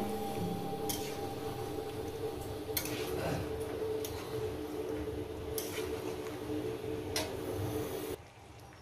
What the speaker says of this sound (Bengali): ধনে পাতাটাকে দিয়ে এইভাবে 5 মিনিট ধরে কষিয়ে নেব।